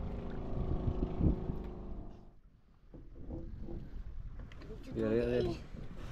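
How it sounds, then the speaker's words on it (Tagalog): A bangka boat's engine drones close by on the water and then fades, with people talking and wind noise over the water. "May bangka pang lumapit to."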